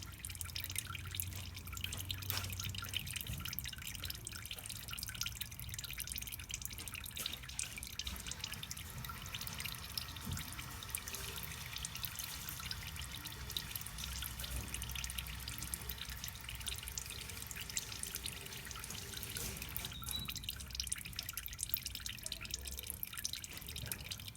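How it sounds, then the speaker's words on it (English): Engine oil draining from a Toyota Land Cruiser during a service, a steady faint dripping and trickling stream running continuously and alone throughout. "let's focus on the oil draining again"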